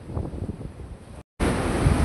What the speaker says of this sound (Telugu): ఫుల్గా కెరటాలు కూడా వచ్చేస్తున్నాయి